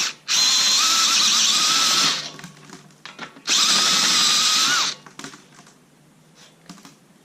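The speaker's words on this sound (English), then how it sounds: "Usually I do that with my Ridgid reamer, but step drill bit works just as good." Power drill spinning a step drill bit to ream out the cut end of a black iron pipe, two loud sustained whirring bursts of about two seconds each, followed by quieter clicks and handling noise.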